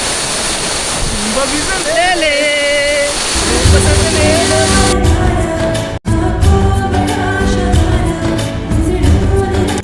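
Loud, steady rushing water from a waterfall in the Sahyadri hills roars continuously, with a few voices and singing faintly audible early on and a brief dropout midway.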